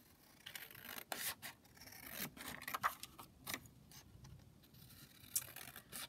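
Scissors trim paper envelope pieces for a craft booklet, making faint, irregular snips and rustling rubs of paper, with occasional louder cuts spread over several seconds.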